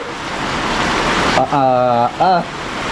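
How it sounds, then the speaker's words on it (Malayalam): Steady hiss of heavy rain fills the air, and a person's voice briefly cuts in over the downpour near the end. "നല്ല മഴയാണ്"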